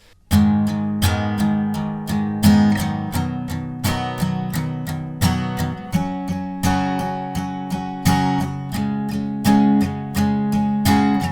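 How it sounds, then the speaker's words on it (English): Acoustic guitar chords strummed with steady even downstrokes, a regular pulse of bright strums ringing out, close and unaccompanied. "it's just going to be an all down strum strumming pattern."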